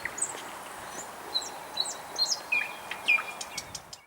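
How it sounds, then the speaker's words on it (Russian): Birds sing at dawn around a mosque complex in Grozny, with several bright, high chirps and short whistled calls repeating at irregular intervals over a soft background hush. "Особенно его впечатлило пение птиц на рассвете."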